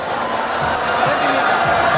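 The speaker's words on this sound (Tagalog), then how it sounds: "And the crowd is all riled up at this moment." Steady roar of an excited crowd filling a basketball arena during an MPBL game, Valenzuela versus San Juan, with faint court thuds and a commentator's voice over the noise.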